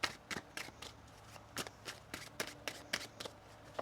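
Tarot cards being shuffled in a series of short crisp riffles and snaps, close and fairly quiet, with brief pauses between bursts.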